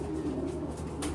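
Racing pigeons coo in a loft during pairing, a soft low rolling murmur that runs continuously and fairly close, with no talk over it.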